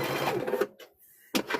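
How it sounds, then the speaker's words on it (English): A sewing machine back stitches a kitchen hand towel in two quick, close bursts of rapid mechanical chatter separated by a brief pause with faint handling noise, no talk. "So we're going to go back and stitch this again because I forgot to do a back stitch on these."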